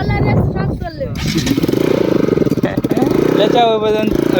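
An NS200 motorcycle engine revs hard and close during a wheelie, a loud rasping roar that climbs and pulses, with voices shouting over it.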